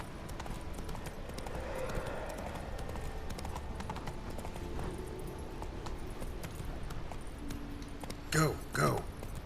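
Roach, a horse in The Witcher 3, gallops with a continuous rhythmic clip-clop of hooves over a busy battle-like backdrop, with a couple of sharp louder bursts near the end.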